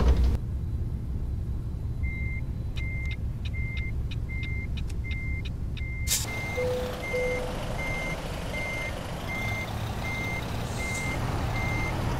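In American Truck Simulator, a truck with automatic transmission idles in reverse while a backup alarm beeps in a steady, evenly spaced series over a low engine rumble.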